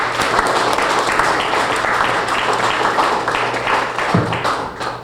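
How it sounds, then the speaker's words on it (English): Applause from the audience at a Rotary club installation dinner, a loud, full burst of many people clapping that runs steadily for about five seconds, with a low hum beneath and a brief knock near the end. "but we'll applaud him just the same"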